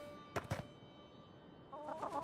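Chickens in the video game Avowed give a couple of short clucks early on, followed by softer fowl chatter over a steady game ambience.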